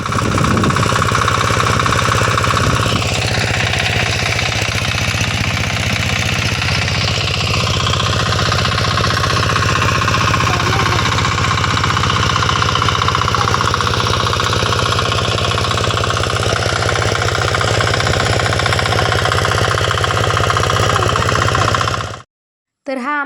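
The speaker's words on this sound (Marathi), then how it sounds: "तर हा आमचा बांधणीचा ट्रॅक्टर आहे बरं का. त्या ट्रॅक्टरनेच आमचं ऊस बांधायचं चाललं होतं." A tractor used for tying sugarcane runs in a field with a loud, continuous rattling, knocking engine drone. It holds steady and close for over twenty seconds, then cuts out briefly near the end.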